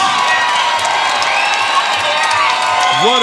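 A loud arena crowd at a bare-knuckle fighting event in Cheyenne, Wyoming, roaring with cheers, whoops and scattered clapping in a continuous wash, with a voice rising near the end.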